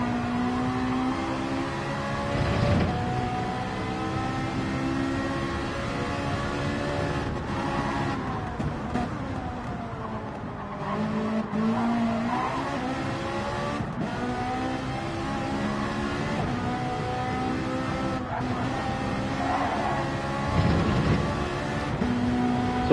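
Ferrari GTE race car in Gran Turismo on a mountainous circuit, its engine screaming continuously and revving up and down through gear changes and corners for the whole stretch, with no talk over it.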